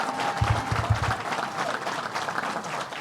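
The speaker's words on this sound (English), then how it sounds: "Give Howard Zemsky a big round of applause." A crowd claps at an outdoor announcement by the governor at Belmont Park race track, dense applause with a few louder hand claps near the start that settles into a steady roar.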